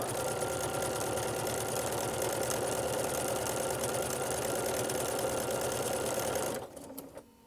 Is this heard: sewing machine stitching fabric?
yes